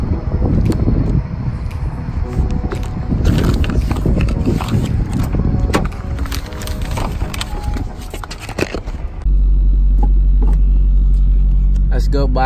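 A Toyota MR2 drives in first gear with a steady loud engine drone and road rumble, interior perspective. Near the end the drone turns into a deeper, even hum.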